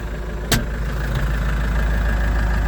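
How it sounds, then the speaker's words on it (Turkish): A New Holland T5.120 BlueMaster tractor idles with a steady low engine drone, heard from inside the cab, with one brief click near the start. "Motorun sesi de az zaten."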